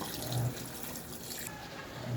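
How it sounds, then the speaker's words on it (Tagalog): Water runs without pause into the drum of a Sharp automatic washing machine, a steady faint rushing and trickle that holds evenly from start to end. "na stuck yung tubig dyan, saka hindi tumitigil ang tubig"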